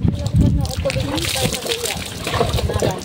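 Water is poured over a person bathing outdoors, splashing and trickling in quick bursts, with someone talking over it.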